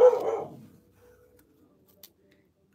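A large dog gives one loud, close bark at the start, followed by near silence with a faint click near the end.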